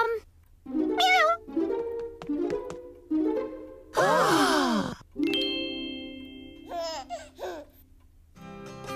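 A cartoon cat from the children's animation Postman Pat meowing repeatedly, several drawn-out, clear meows with one longer wavering yowl, close and prominent.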